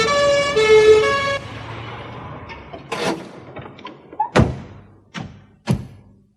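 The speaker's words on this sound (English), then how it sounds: "A siren sounded in the distance." A siren wails faintly in the distance for about a second, then fades, followed by a few dull thuds and knocks nearby.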